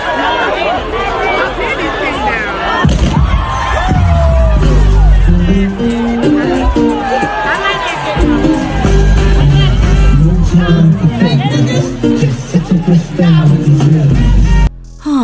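A lively concert crowd at a performance, a loud mass of chattering voices with scattered whoops and shouts, music and amplified vocals mixed in, sustained across the whole stretch.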